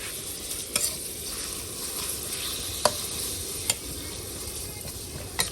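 Minced pork stir-fried in a pan with chilli and garlic, a constant close sizzle broken by occasional sharp scrapes and taps of the spatula, no talking.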